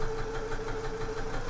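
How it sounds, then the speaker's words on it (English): A sewing machine hums steadily while stitching viscose fabric with a sharp needle, a continuous close mechanical drone without breaks. "I'm sewing with viscose here"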